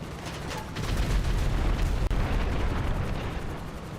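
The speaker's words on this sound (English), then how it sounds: "Where the bombs are even dropping." Bombs explode in the video game Grand Theft Auto V: a heavy, rumbling blast swells and rolls on for several seconds, loud and dense, with a brief cut midway.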